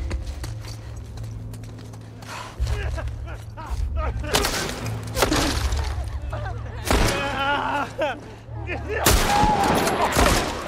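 Bursts of rapid gunfire crackle in a scene from the video game The Last of Us, several loud volleys separated by shorter pauses, over a low droning background.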